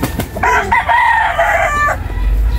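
A rooster on a Philippine gamefowl farm crows once, loud and close, a long drawn-out cock-a-doodle-doo over low background rumble and faint noise.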